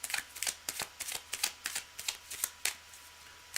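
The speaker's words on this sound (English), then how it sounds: "Cards are well shuffled." Playing cards shuffled by hand during a live reading session, a quick series of crisp riffling bursts and snaps repeating in an uneven rhythm, close and clear with no voices.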